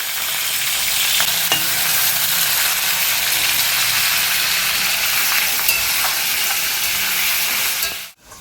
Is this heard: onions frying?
yes